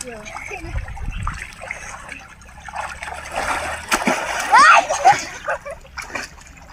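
Water splashes and spatters repeatedly during a bath washing off Holi (Dhuleti) colours, with bursts of louder splashing near the end, heard under excited talking and children's voices.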